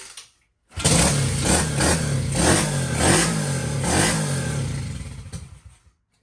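A Honda SL70 motorcycle fitted with a Lifan 125 engine revs loudly and close by on its first run. The engine surges and falls several times, giving a rough, clattery tone, then cuts off near the end.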